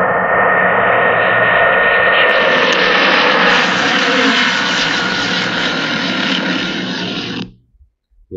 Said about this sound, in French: j'ai simplement tapé un avion en train d'atterrir